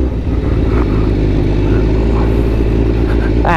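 A Honda CBR1000RR-R Fireblade motorcycle engine drones loudly and steadily while ridden over off-road ground, a low continuous rumble with a brief rising rev at the very end.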